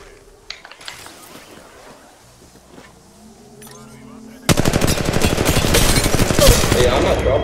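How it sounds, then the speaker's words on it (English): Rapid automatic gunfire in the Apex Legends Mobile video game erupts after a few quiet seconds of scattered game sounds, then keeps rattling loud and continuous. "Gunshots on the right."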